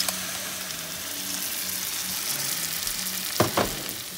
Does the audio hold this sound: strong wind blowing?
no